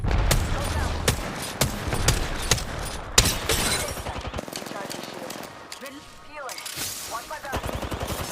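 Gunfire in a battle royale video game, rapid automatic bursts and repeated sharp shots crackling close by, loud and sustained, interspersed with a player talking and in-game voice lines.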